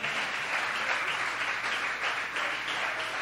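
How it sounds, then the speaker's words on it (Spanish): A church congregation bursts into sustained, dense applause that stays full and even throughout, with many hands clapping together and no talk over it. "Denle un aplauso al Señor."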